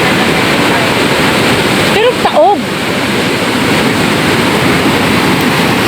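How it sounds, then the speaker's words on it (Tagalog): High sea waves crashing on a shore after Typhoon Kristine, heard as a loud, continuous roaring surf with wind buffeting the microphone, while someone briefly speaks over it. "Pero mataas pa rin ang dagat."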